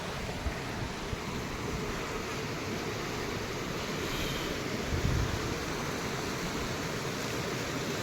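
Swift river current in cold Yumthang Valley, Sikkim, gives a steady, broad rushing roar with a constant loud wash and faint low rumbles, no voices present.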